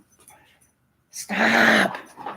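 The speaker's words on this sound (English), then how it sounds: "This is my 7-month-old puppy." Seven-month-old puppy weighing about 30 pounds lets out a loud, sustained whimpering growl at close range, following a word spoken by a person.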